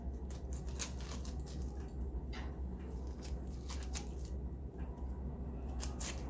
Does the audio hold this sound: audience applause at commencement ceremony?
no